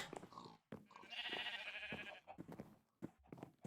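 Sheep bleat in a Minecraft modpack game, a few short wavering calls in quick succession, quiet and close with brief gaps between them.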